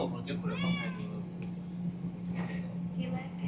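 A cat meows several times in quick succession, close and clear, over a steady background hum with people talking nearby.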